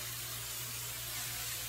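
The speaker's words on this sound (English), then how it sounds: "We'll put some hairspray on here." Tresemme extra hold hairspray misted onto hair from an aerosol can, a steady broadband hiss lasting the whole moment over a low background hum.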